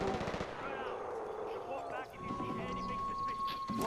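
Gunfire in the Far Cry 4 video game, with rapid bursts of automatic shots and booming reports packed densely under a voice talking over the top throughout.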